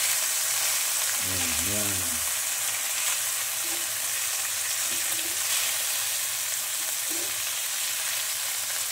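Pancit gisado noodles stir-fried in a pan, with a steady sizzle throughout, a few soft scraping stirs and a brief voice in the background.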